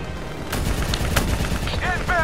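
Bursts of automatic gunfire crackle in a Black Ops 3 firefight, near and loud, with sharp shots over a rumbling battle bed and faint electronic chirps at the end.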